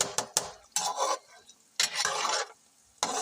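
Chicken simmers slowly in a pot with tomatoes that have released their water, heard as bursts of stirring scrapes and soft sizzling in several separate strokes with quiet gaps between.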